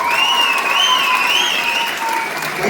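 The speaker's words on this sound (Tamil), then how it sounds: "கெங்கி பாய்ஸ் நல்ல ஒரு கரகோஷத்தை குத்துருவோமா" Audience applause for the Genki Boys at a Marutham Pongal 2025 performance, a short burst of continuous clapping with some whistling tones riding over the crowd noise.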